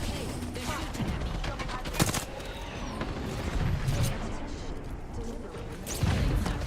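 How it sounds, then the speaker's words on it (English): Muffled gunfire bursts and impacts from an Apex Legends match, with sharp cracks and scattered booms under game ambience as the player's character comes under fire. "Okay, they're shooting at me."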